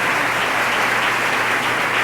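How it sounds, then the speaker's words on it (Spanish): Steady, dense applause from a church congregation, many hands clapping together at a constant level for the whole stretch, with no voices over it. "Recibamos al hermano Gualberto con un fuerte aplauso."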